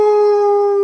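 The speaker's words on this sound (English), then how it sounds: "Then, a howl." A wolf howl rings out as one loud, sustained, steady tone, close and clear, holding its pitch from start to end.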